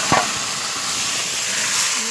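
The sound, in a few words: fish frying in oil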